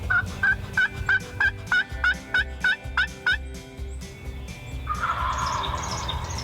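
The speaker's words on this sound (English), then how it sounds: "From the moment we left the truck, we could hear birds gobbling" Wild turkeys gobbling near a roost in Michigan woods, about nine evenly spaced repeated calls, moderately close, before a rising chorus of birdsong and overlapping calls takes over.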